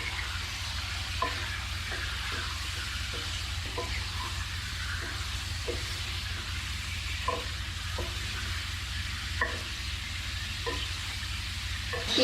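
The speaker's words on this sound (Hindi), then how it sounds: "गोश्त को भून लेते हैं।" Chicken fries in a pan for chicken karahi, a steady soft sizzle with periodic scrapes and taps of a stirring spoon, close and quiet, with no talking.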